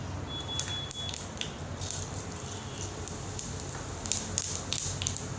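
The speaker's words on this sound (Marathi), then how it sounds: "आपलं तेल गरम झालं की आपण याच्यात थोडी मोहरी टाकूया" Mustard seeds and cumin spit and sizzle in hot oil with a steady crackling hiss and scattered pops, fairly quiet and close, with no talking.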